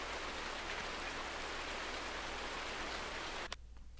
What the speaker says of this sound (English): as they forecasted, it's raining